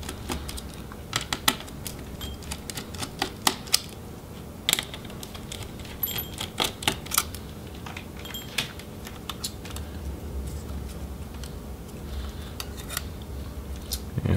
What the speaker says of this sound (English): So we'll go ahead and remove those screws.